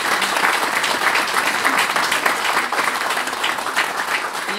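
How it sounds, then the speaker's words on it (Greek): Sustained, loud audience applause at a Greek celebration for the feast of Saint Barbara, steady clapping from a sizable crowd throughout. "Ένα χειροκρότημα για το θέμα."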